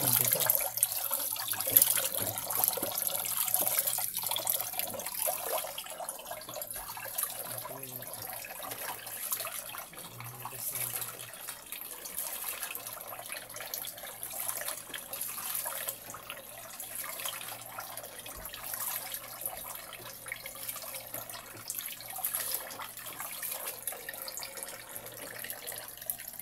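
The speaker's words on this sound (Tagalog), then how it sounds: "Ganito ng hugas mo ng bigas." Rice being washed under a running tap sloshes and streams into a sink for a long stretch, a continuous close wash of water with small splashes and drips and no talk.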